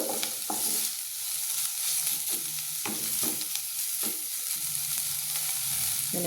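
Ingredients for North Karnataka style zunka vada fry in a pan with a loud, continuous hiss, broken by a few stirring scrapes at irregular intervals; no voices.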